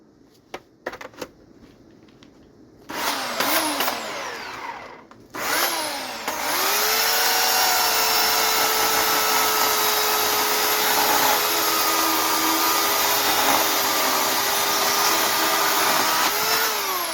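An Oregon CS1500 electric chainsaw starts after some handling noises and then runs steadily at close range, a loud continuous motor whine and buzz that holds for most of the stretch with slight pitch dips, no talking over it.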